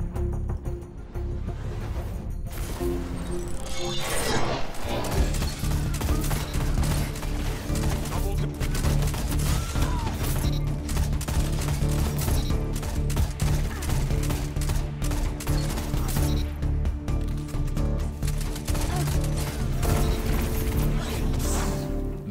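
Steady, continuous gunfire from the MIDA Multi-Tool rifle in Destiny 2, a relentless run of rapid shots with crashes and impacts filling the whole stretch.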